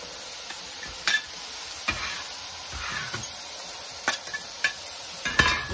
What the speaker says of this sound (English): Right over that, I'm gonna throw in my onion and my garlic.